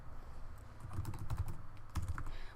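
Someone types an email address into a login form on a computer keyboard, with a quick, uneven run of soft key clicks at moderate distance and no speech.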